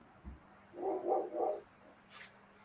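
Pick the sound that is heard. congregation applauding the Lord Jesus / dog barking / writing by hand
dog barking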